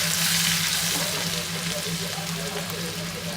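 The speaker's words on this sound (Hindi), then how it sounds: "सौंफ डालेंगे 1 चम्मच, प्याज डालेंगे कटा हुआ," Chopped onion and fennel seeds fry in oil for poha, giving a steady, moderate sizzle with a faint low hum underneath throughout.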